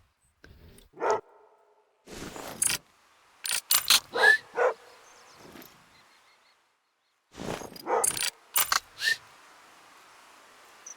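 Dog barking in the hunting video game theHunter, a run of sharp barks and yelps in two clusters with gaps between, fairly close and loud with no talk over them.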